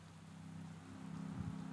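Heavy rain in the Pro Cycling Manager 2017 cycling game during a race sprint: a steady, dense wash of rainfall noise with a low rumbling hum underneath, fairly quiet and unbroken throughout.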